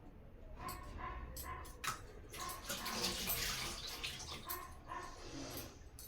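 Water pours steadily into a container at close range, a continuous splashing rush with brief louder surges and faint background sounds.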